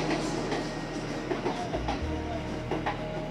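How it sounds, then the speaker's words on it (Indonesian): A commuter train rolls past close to Jurang Mangu station, a continuous low rumble with rhythmic wheel clatter and a faint whine, steady and fairly loud throughout. "Sering banget nih intensitas keretanya gitu."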